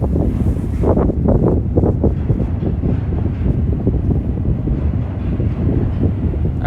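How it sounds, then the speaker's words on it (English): A northbound subway train rumbles past beside Cedarvale Park in Toronto, a steady loud roar that swells and holds throughout with wind buffeting the microphone. "Yep, that's a northbound train."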